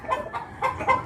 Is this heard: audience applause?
no